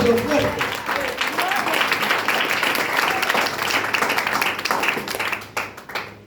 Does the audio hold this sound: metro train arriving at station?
no